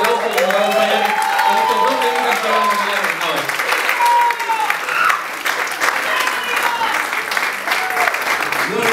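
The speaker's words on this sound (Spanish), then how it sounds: "quiero que le demos un fuerte aplauso al que es el productor del disco y pianista" Concert audience at an album launch in Sala SCD Bellavista applauding a record producer and pianist, sustained clapping with some cheering while people talk over it.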